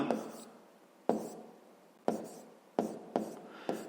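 A pen scratches on paper in a math exercise for a fifth-grade lesson, several separate strokes starting sharply and fading, spaced about a second apart, close and clear.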